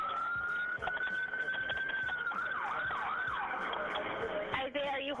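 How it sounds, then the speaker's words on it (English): Police sirens wailing in the background of a recorded phone call, a steady rising and falling tone that shifts into a faster yelp toward the end, muffled and distant over line noise. "You can hear the cops coming in the background."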